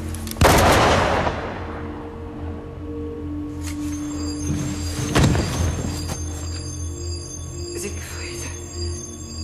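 A single loud gunshot cracks out near the start, followed by a second sharper report around five seconds in, set in a tense indoor confrontation within a French crime drama, with a low steady hum beneath.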